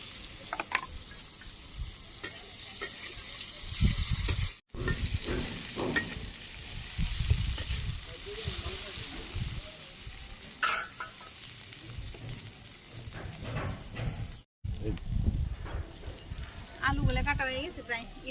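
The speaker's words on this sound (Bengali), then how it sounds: "গরম হয়ে গেছে, কাঁকরোল দিয়ে দিই।" Teasel gourd (kakrol) coated in turmeric powder frying in hot oil, a steady close sizzle with occasional stirring scrapes, while people talk over it throughout.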